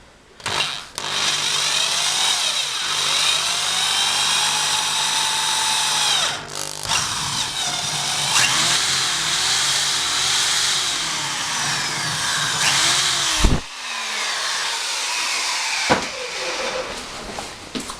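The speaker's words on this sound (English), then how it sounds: "Again, you want to press a bit hard just to start with so the drill bit doesn't wander too much" A power drill bores a hole through the plastic shell of a suitcase while repairing its broken luggage wheels, a steady close whine running nearly continuously with brief dips and a final stop.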